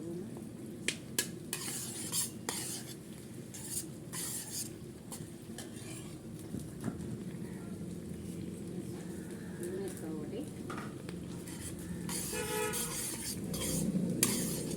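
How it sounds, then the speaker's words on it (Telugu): Food fries in a pan with ginger paste, a steady sizzle under spoon stirring and scraping, with a person talking over the cooking. "వేగుతూ ఉన్నాయండి మంచిగా."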